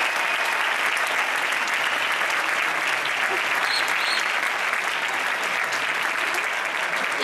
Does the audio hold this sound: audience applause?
yes